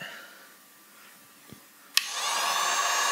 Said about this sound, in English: this heat gun is not quiet